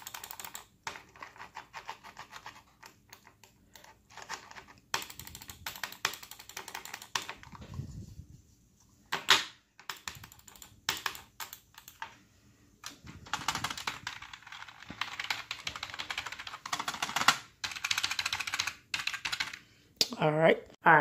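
Typing on a new Slayer gaming keyboard from a 3-in-1 gaming kit, with bursts of close, crisp key clacks that come in uneven runs and pauses, a few heavier taps mixed in.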